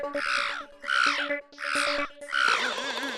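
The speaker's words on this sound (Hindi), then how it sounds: "एक तो ये कौवे को शांति नहीं है, सुबह से काऊ काऊ कर रहा है।" A crow caws loudly and close by, giving four harsh squawks in steady succession. Each caw is a raspy, nasal call, with a faint tonal hum in the background.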